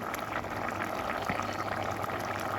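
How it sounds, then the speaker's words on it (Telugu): A taro root and tamarind stew simmers in a pot, giving a steady, close bubbling and hissing boil that runs throughout with no talking. "చామగడ్డ అయితే ఇలా ఉడకనియాలి, పులుసు అంతా దగ్గరికి అయ్యేలా కొంచెం"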